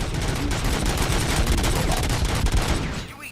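Dense, sustained gunfire from the RoboCop: Rogue City video game, a loud continuous barrage of rapid shots with no talking, tapering off near the end.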